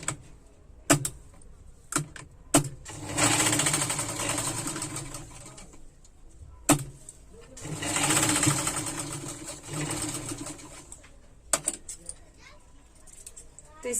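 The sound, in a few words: sewing machine stitching lehenga fabric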